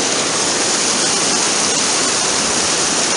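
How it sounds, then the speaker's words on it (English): A fast-flowing river and waterfall in a Pyrenees mountain valley roar close by, a dense, steady, loud rush of water that never lets up. "We're going down this valley, fast flowing river just by the side of the path. Waterfall over here"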